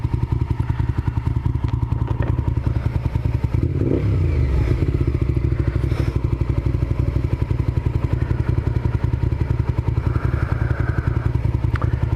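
A motorcycle is ridden on a road, its engine giving a steady, close, rumbling drone throughout, with a brief thump and clatter partway through.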